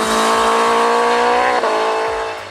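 A BMW S1000R motorcycle's engine revs hard and loud, a sustained high-pitched roar with rising tone that fades slightly toward the end.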